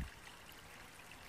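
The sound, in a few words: small stream running by a footbridge on the trail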